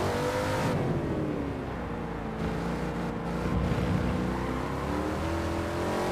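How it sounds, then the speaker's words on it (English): Small two-stroke snowmobile engine driving the fans of a fan car in Gran Turismo 7, blended with a V8: a steady, loud, droning engine note with shifting harmonics throughout, no voices. "It's the engine that powers the fans, I think. It's supposed to be the snowmobile engine in the back."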